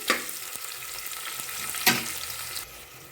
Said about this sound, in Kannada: ಈರುಳ್ಳಿ ಕಲರ್ ಚೇಂಜ್ ಆಗೋವರೆಗೂ ಇದನ್ನು ರೋಸ್ಟ್ ಮಾಡಿ